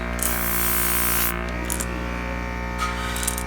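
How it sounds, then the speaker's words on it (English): Airbrush spraying black paint down the back of a bluegill crankbait lure, a steady close hiss with a compressor hum beneath and a few brief louder bursts. "we're just going to paint it black down the back. Like so. And just kind of get the overspray on the sides."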